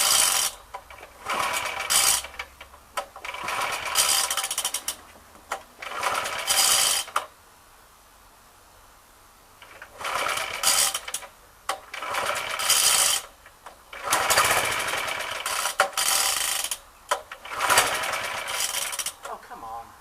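A Suffolk lawnmower engine with carburettor problems fires up and runs in loud, close, ragged bursts of mechanical clatter. It keeps cutting out into short gaps, and voices can be heard between the bursts.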